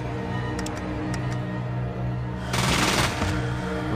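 Burst of automatic gunfire in the video game Fallout: a loud, dense broadband rattle of rapid shots lasting under a second, over steady game music and ambience.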